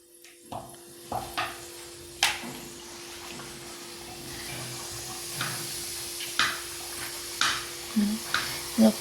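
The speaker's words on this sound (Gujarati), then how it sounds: "તેલ પણ આવી ગયું છે પૂરી તળવાનું." Puris fry in hot oil at a village home, with a steady low sizzle broken by repeated sharp clinks and scrapes of a utensil against the pan, close and fairly loud.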